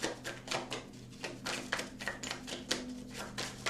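A deck of cards riffled rapidly in a fast-shuffling machine, a dense run of crisp, close flutters and snaps with short pauses between bursts.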